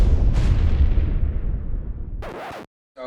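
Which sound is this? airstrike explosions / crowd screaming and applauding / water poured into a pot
airstrike explosions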